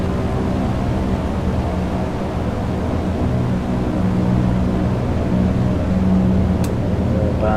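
Propeller engines of an A2A Constellation airliner in a flight simulator game, a loud steady droning hum with a constant low rumble and no speech.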